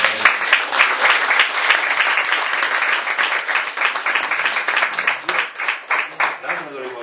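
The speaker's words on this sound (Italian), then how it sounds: "c'è un applauso a Fediano." Lively audience applause for Fediano closes a conversation event about the Telesino archaeological garden. Dense, bright clapping holds steady, then breaks into a few separate claps near the end.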